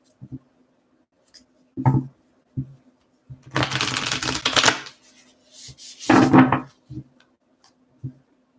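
Tarot cards are shuffled in short bursts, two longer riffling passes among scattered taps and slaps of the deck, close and crisp against silence.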